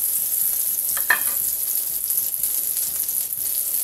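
Butter melting in a hot pan, giving a strong, continuous crackling sizzle close up, with one brief brighter spatter about a second in.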